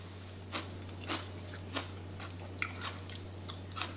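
Crisp, crunchy chewing of seasoned mung bean sprouts at close range, several distinct bites spread evenly over a few seconds against a quiet room with a steady low hum.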